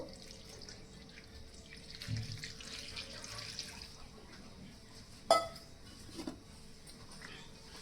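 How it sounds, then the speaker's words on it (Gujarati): Cut drumstick pieces get rinsed with water, a quiet trickle and splash from a tap with a few louder clunks and sloshes as the pieces are handled, close and faint, without talk. "હવે આપણે તેને પાણીથી સારી રીતે ધોઈ લેશું"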